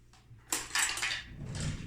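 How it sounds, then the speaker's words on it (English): A utensil scrapes and clinks against a pot while refried beans are stirred, a few close metallic knocks and scrapes in quick succession with no talking. "I just got to stir my beans here."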